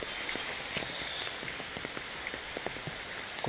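Steady monsoon rain falls during a cyclone on a rural road in Bangladesh, a dense continuous patter with scattered louder drops hitting nearby surfaces, no voices.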